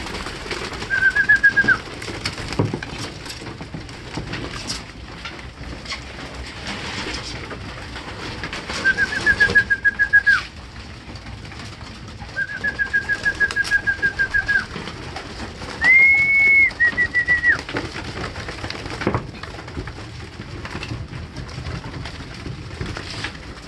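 Hungry pigeons at feeding time give soft, low cooing over a busy background of shuffling and fluttering. Several brief whistling notes recur, probably wing sounds, in bursts spread across the stretch at close to moderate distance, with no talk.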